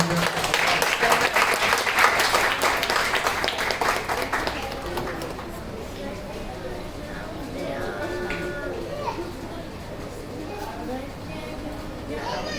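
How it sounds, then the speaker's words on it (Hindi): Loud applause from a gathered crowd at an event, strongest in the first few seconds, then settling into lighter, scattered clapping with background chatter. "जोरदार तालियां।"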